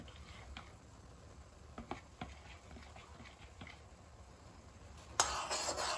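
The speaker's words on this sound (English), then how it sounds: "you keep on stirring" A spoon scrapes and taps against a pot while cornmeal porridge is stirred, a few soft irregular clicks over a quiet background, ending with a louder clatter.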